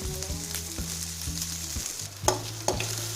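Coriander seeds and dried red chillies dry roasting in a pan for a South Indian chicken curry, with a continuous dry crackle and sizzle broken by scraping stirs and a low hum underneath.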